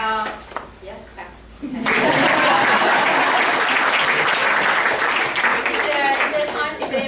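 A workshop audience bursts into full applause after a short spoken introduction, with dense, steady clapping that carries to the end.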